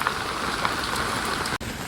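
Steady rain falling outdoors, a dense even hiss of drops on surfaces with a brief dropout near the end.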